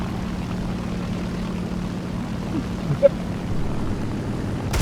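An IL-2-37 propeller attack plane flying in the War Thunder combat game, heard as a steady, moderately loud engine drone with a brief faint tonal blip midway and no speech.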